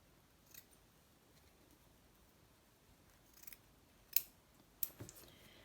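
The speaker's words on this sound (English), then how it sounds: "I'll cut some of this as well." Scissors snipping blue paper while cutting out handmade winter craft tags, heard as a few faint, isolated snips in a quiet room.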